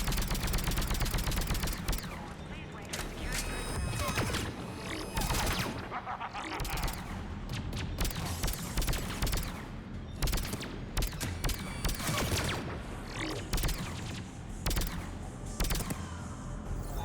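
Sustained gunfire in the video game Mass Effect 3 crackles continuously, with dense overlapping rapid shots and bursts from a firefight, loud and steady throughout.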